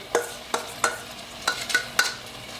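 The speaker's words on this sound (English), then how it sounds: "And now I'm gonna put this beef here." Beef goes into hot oil or ghee in a pan for a chili-red Rajasthani laal maas, sizzling softly under several close scraping stirs of a spoon against the pan, no talking.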